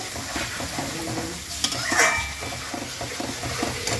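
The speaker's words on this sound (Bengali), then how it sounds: "হ্যাঁ, এটা খুব ভালো করে কষাতে হবে।" Tomato paste and chopped tomatoes sautéing in a pan for a papaya dhokar dalna, a steady crackling sizzle with repeated scraping strokes of a spatula and a brief metallic clink midway.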